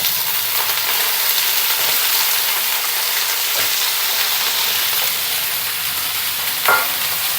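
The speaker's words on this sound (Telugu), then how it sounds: "ఈ ముక్కల్ని ఇందులో వేసుకోవాలి." Potato pieces soaked in turmeric water tipped into hot tempering oil, a loud, dense, continuous hiss and sizzle close by, with a brief clatter near the end.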